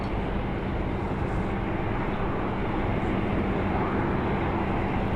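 A Korean Air cargo plane taxis at Anchorage airport in Alaska, its engines giving a steady, loud, unbroken roar that fills the scene with no voices.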